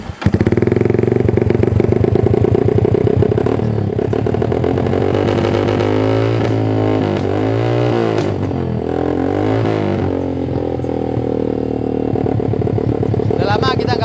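A yellow MSG motorcycle engine idles steadily while warming up, a loud continuous rumble close by with slight shifts in pitch partway through and no talking.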